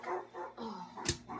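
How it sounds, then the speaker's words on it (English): A pet dog barks in a home, several muffled, fairly close yaps in an uneven rhythm with one sharper, louder bark near the end. "excuse me really, really quick because she might just keep barking"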